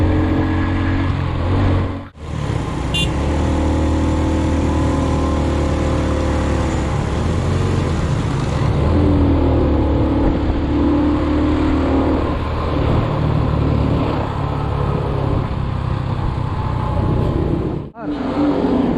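Motorbikes and cars roar past in heavy, constant traffic on a small road in Khyber Pakhtunkhwa, Pakistan. The engine drone stays loud and close almost the whole time, broken only by brief dips.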